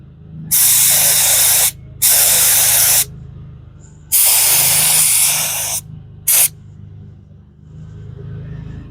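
Spray gun laying epoxy primer coats on a rusty one-ton truck bed, four loud hissing bursts of a few seconds each, the last one very short, with a low background rumble between them.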